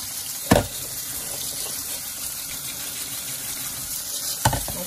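Tap water runs steadily into a kitchen sink while sorrel is rinsed clean, a close continuous hiss with two brief louder splashes or knocks near the start and end, no talking.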